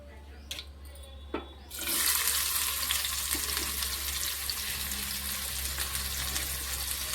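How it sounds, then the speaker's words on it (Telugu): After a few soft clatters, onions hit hot oil and a loud, broad hiss bursts in, then holds as a steady close sizzle to the end, with no talking. "ఇంకొద్దిగా ఆయిల్ యాడ్ చేస్తున్నానండి. ఉల్లిపాయలు వేస్తున్నాను."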